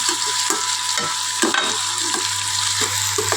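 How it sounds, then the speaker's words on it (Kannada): Chopped onion frying in a pan for tomato curry cooked in a room, a steady sizzle with occasional stirring scrapes, close and continuous with no talk. "ಫ್ರೈ ಆಗ್ತಾಯಿದೆ ಈರುಳ್ಳಿ ನೋಡ್ಬೋದು"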